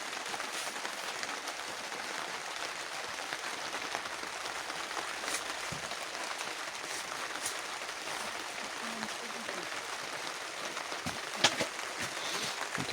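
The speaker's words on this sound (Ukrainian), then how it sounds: "дощ іде" Rain falls steadily on a small greenhouse built from old window frames, producing a faint, even patter and hiss with a few sharper drop ticks.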